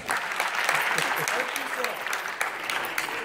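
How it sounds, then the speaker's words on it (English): Lecture-hall audience at a biennial memorial lecture clapping for themselves, a steady, moderately loud wash of many hands with a few louder individual claps, no talk over it. "Please clap for yourselves."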